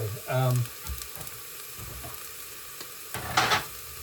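Onions, baby aubergines and peas fry in a pan for a quick chicken curry, giving a soft, steady sizzle broken by a couple of louder stirring scrapes. A short bit of talk comes near the start.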